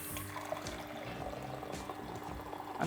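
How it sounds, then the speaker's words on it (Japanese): A Rocket Appartamento home espresso machine pulls a shot, a continuous watery pump drone and trickle with faint gurgling, steady and close, with no talk over it. "では次の抽出が始まってます。"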